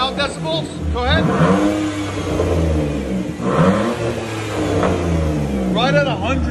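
Loud, close revving from a straight-piped 2000 BMW 323i 2.5L inline-six on a 3-inch exhaust, several throttle blips swelling and dropping away with a deep raspy drone, while voices talk over it.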